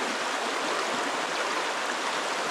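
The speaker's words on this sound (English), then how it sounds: "There's the river I crossed with the snow dog." A clear river in a snowy forest, heard in winter blizzard conditions, makes a steady, even rush of flowing water. The sound is close and constant and carries alone with no voices.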